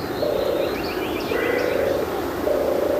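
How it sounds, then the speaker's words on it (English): A turtle dove on farmland gives its soft, purring call in repeated phrases, fairly close and clear over a steady outdoor background. "It's a turtle dove."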